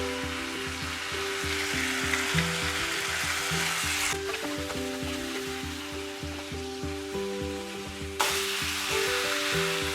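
Boiled potatoes fry with softened tomatoes in a hot pan, a steady close sizzle with light crackling that continues without a break and shows two sharp spikes of stirring contact.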